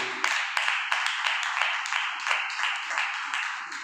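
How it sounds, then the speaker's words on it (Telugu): A congregation claps hands in a steady rhythmic beat, roughly three claps per second, loud and close inside a church hall, with no talking over it. "చప్పట్లు కొట్టండి"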